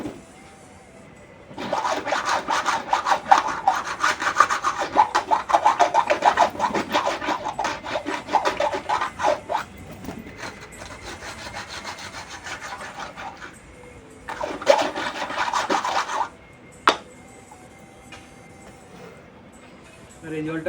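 Pigeons' cage being washed and scrubbed by hand, with steady rubbing and scraping strokes in long bursts, pauses between them and a sharp knock near the end; a voice speaks at times over the scrubbing.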